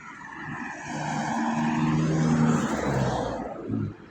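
A car's rebuilt engine with a carburettor idles and revs nearby, its rough hum swelling in the middle and easing off toward the end, with no talking over it.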